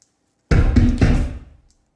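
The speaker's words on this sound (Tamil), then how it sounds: "அந்த வீட்டோட கதவை யாரோ டமால் டமால் அடிக்கிற சத்தம்" Someone pounds on a house door in a film, a burst of heavy knocks in quick succession starting suddenly after silence, loud and close, then fading out.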